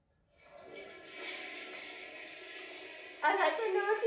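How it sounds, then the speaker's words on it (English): A toilet flush plays as a sound effect in a home guessing game: a steady rush of water lasting about three seconds, swelling louder near the end, with voices talking over it. "That's a toilet."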